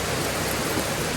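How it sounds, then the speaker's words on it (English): Heavy rain falls and runs off a roof in a steady, close, hissing wash with no break and no voices. "I wouldn't mind this rain because it helps things grow."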